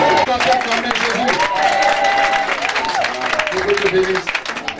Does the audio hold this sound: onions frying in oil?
no